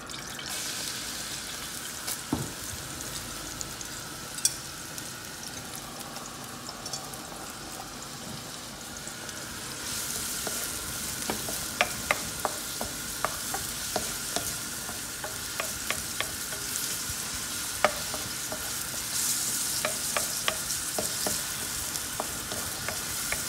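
Chopped carrots frying in a pan with a steady close sizzle, joined by the scrape and clink of a utensil stirring in repeated taps, louder in the second half, with no talking.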